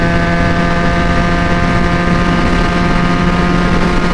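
Benelli 300 motorcycle engine on an open road while riding, a steady continuous drone with a strong hum and layered harmonics, loud and close with no talk over it.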